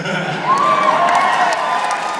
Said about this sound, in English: Good polite golf applause